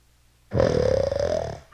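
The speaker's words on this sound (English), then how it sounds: "crept back into bed, and was soon snoring loudly" A wolf in a Little Red Riding Hood story snores in one long, loud, rattling breath, close and alone, a snoring sound effect.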